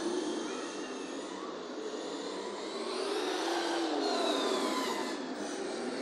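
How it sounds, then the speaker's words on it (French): A steady high-pitched electric motor whine from a Hobao 8SC RC car on 4S power in a parking lot runs continuously, with a slight waver in pitch and no talking. "Et le petit bruit de moteur en fond."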